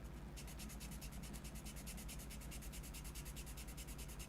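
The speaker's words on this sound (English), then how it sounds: "sand that back edge just a little bit. Make that all nice and even." Rapid, even back-and-forth rubbing of a 600-grit sanding block on a plastic model kit part, a fast steady scratching rhythm, faint and close.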